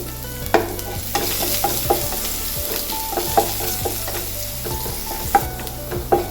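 Asafoetida, chopped ginger and garlic fry in oil in a pan for aloo palak curry, a steady crackling sizzle punctuated by repeated spatula scrapes and taps against the pan.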